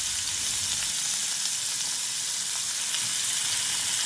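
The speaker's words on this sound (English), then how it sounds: "when the oil is hot enough we will add the basa fish pieces seasoned with salt, pepper and lemon juice" Seasoned basa fish pieces shallow-fry in hot mustard oil in a pan, giving a dense, continuous sizzle and hiss, close and steady from start to finish.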